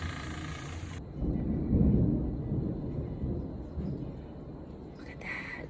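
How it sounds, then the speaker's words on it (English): A deep roll of thunder during a Texas rainstorm rumbles in, peaks loudly, then fades into a low grumbling tail, with a voice briefly audible. "The thunder and lightning is crazy too."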